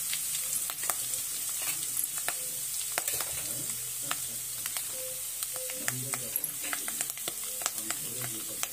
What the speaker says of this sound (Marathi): लसूण ही जास्त आपल्याला करपवायचा नाही, एकदम हलका रंग होईपर्यंत असं छानपैकी असं परतून घ्यायचं